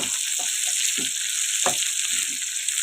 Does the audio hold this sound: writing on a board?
no